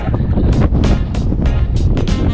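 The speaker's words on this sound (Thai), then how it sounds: "ลมแรงมาก" Strong wind buffeting the microphone high on a rock outcrop at Chonburi's Grand Canyon, a continuous loud roar with gusty surges throughout.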